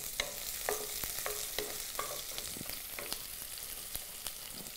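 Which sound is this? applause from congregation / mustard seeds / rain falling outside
mustard seeds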